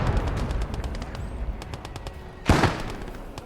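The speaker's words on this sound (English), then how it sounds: "That's a heavy piece of artillery." A heavy artillery piece fires in the war game Motherland, a loud booming blast that stands out above a steady crackle of distant gunfire and battle noise.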